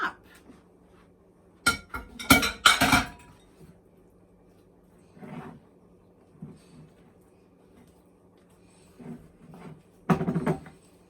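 Keto bread ingredients are mixed in a bowl, with sharp clinks and scrapes of a utensil against the dish in quick bursts, then sparser knocks and light clatter in a quiet kitchen.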